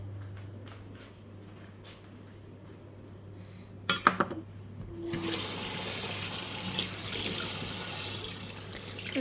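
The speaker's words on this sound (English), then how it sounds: "So just run it under some cold water to cool it down, stop the cooking." Cold water from a kitchen tap running over blanched spinach in a bowl. A few clinks come first, then a steady close hiss of flowing water over a low background hum.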